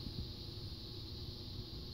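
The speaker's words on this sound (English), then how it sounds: "It's also humming a lot louder." A high-pressure sodium streetlight ballast hums steadily, a faint, even electrical drone with a constant high whine above it and no voices.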